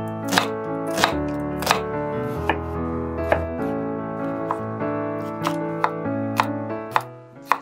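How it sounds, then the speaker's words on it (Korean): A knife chops onion and tomato into cubes on a board, giving a run of about a dozen sharp, close chops at an uneven pace over soft background music. "양파와 토마토도 같은 크기로 자르세요"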